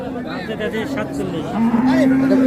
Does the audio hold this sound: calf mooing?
yes